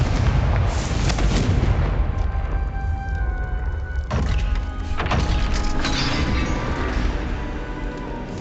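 A fire spell is cast in the video game Hogwarts Legacy, bursting into a loud, rumbling explosion. Crackling booms and debris continue throughout, with a second surge midway.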